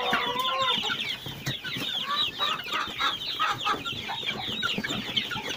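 Several chickens and Leghorn-cross roosters cluck and squawk continuously, overlapping calls close by in a busy, noisy coop.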